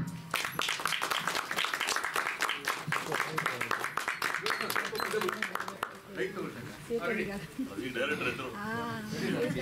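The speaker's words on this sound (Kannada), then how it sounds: "ಜೋರಾಗಿ ಚಪ್ಪಾಳೆ." A crowd at a Kannada film audio launch event claps loudly in a dense burst of applause that fades after several seconds as voices talk over it.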